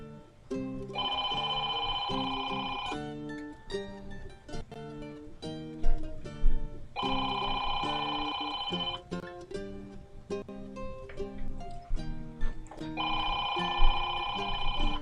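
Telephone bell rings in repeated bursts, three long ringing stretches separated by pauses, loud and close, with clattering and background noise between rings during a hectic stretch of phone calls.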